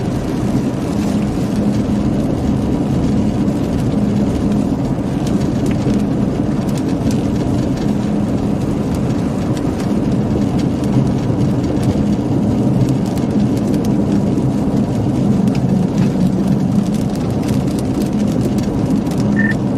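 Rain from a passing storm in the American South, a loud, dense, continuous wash with a low road or engine rumble underneath and no talk, steady for the full length.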